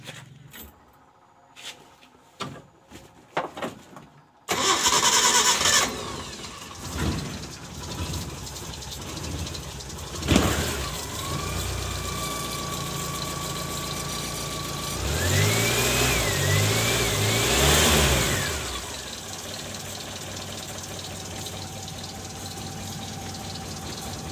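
Suzuki Carry Futura engine after cleaning and tightening work: a few clicks and knocks, then the engine cranks and catches with a loud start, settles into a steady idle, and briefly revs up mid-way before returning to a constant idle.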